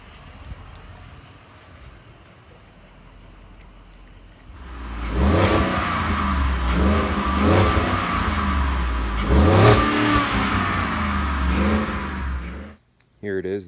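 A 2015–2020 Ford F-150 with an MBRP 3-inch single side-exit exhaust idles quietly, then rises into a loud, throaty rumble with several rising revs before cutting off abruptly, with a voice speaking faintly.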